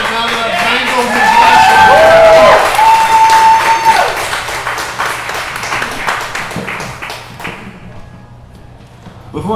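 Audience applauds and cheers for poet Bryan Borland at a poetry reading, a loud burst of clapping with whoops that swells early, then tapers and thins toward the end, with some voices mixed in.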